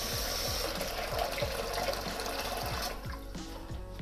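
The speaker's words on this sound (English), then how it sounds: "grab your Thermi bowl and fill about 2/3 full with cold water" Cold tap water pours into a Thermomix TM6 bowl with a steady, close rushing splash that softens slightly near the end.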